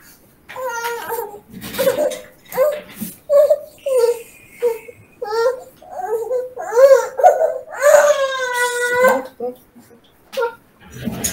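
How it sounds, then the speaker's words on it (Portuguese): A baby girl cries in repeated wailing bursts close by indoors, rising into louder, drawn-out sobs near the end, with no clear talk over it. "vou ter que pegar a bebê que começou a chorar ali"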